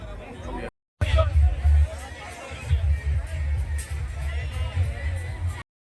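Dense crowd at the Varsoli Vithoba village fair in Alibag, a continuous babble of many voices and outdoor bustle with a brief dropout, people chattering nearby throughout.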